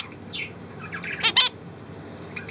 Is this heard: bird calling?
yes